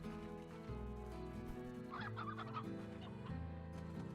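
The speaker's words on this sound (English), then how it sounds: "I heard another chicken." A chicken in the video game Slime Rancher clucks in a short burst of a few clucks over a steady layered game music background, fairly quiet overall.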